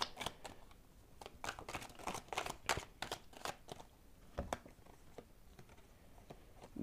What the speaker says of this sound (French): On va juste prendre quelques cartes ici avant d'attaquer les tarots.